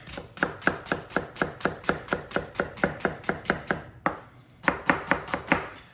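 A knife chops rapidly and steadily on a big white cutting board, with about twenty close, crisp strikes in an even rhythm, then a brief pause before another quick burst of chopping.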